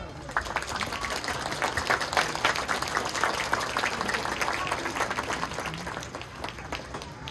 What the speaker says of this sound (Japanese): 手拍子等で、応援してください。